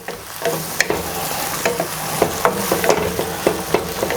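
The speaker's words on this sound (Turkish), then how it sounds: "ıspanaklarımı böyle birazcık güzelce sosunu yedirerek hafiften kavuruyorum" Spinach being lightly sautéed in its sauce in a pan, a soft steady sizzle broken by repeated sharp clicks and scrapes of a utensil stirring, close and alone.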